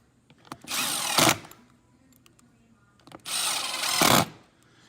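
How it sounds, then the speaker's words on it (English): A screw gun drives screws into replacement casement window hardware in two loud whirring bursts of a bit over a second each, separated by a quieter gap with small clicks and handling. "You could also do this with a screwdriver if you don't have a screw gun."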